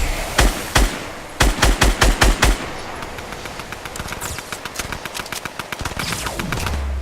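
Burst-fire weapon in a shooter video game, with loud rapid gunfire volleys of several shots each, then a longer string of quieter repeated shots over continuous game noise.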